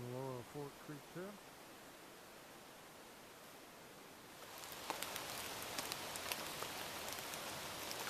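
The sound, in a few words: rain falling at forest campsite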